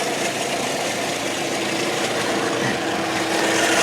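The 2.2 liter four-cylinder GM engine of a 2003 Saturn Ion runs at a steady idle, a loud, even hum with a constant broad whir heard up close, with no talk.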